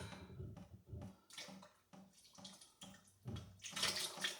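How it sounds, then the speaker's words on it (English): Sugar syrup made with a large amount of sugar is poured directly over a bag of blackberries and raspberries for wine, giving an irregular liquid splashing and gurgling that swells louder toward the end, with no talking. "we're going to pour it directly over the bag"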